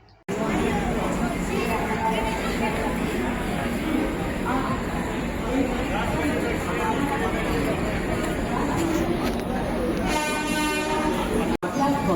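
A passenger train on the Kacheguda to Prayagraj route rumbles steadily and loudly throughout, heard from on board, with a horn sounding near the end and voices talking over the constant noise.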